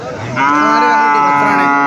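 A calf gives one loud, close moo that holds steady for over a second, alone with no talk, at a cattle sale where a young calf is offered for about 4000 rupees.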